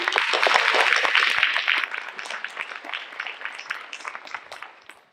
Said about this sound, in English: can we get a round of applause for how well Janaki performed so far?